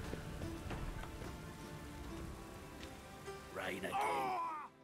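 Steady rain patters and hisses in the video game The Witcher 3: Wild Hunt, a constant wash of sound with a voice exclaiming loudly near the end.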